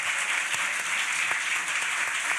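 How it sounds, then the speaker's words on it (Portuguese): Audience applause for a guest at an interview event, a steady, dense wash of clapping from many hands with a few sharper claps standing out, filling the whole stretch with no speech. "Paulo Rogério Nunes, aplausos para ele"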